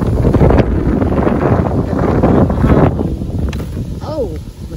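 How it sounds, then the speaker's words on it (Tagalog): Strong wind buffets the microphone in heavy, roaring gusts throughout, with a short high squeak near the end. "Sobrang hangin."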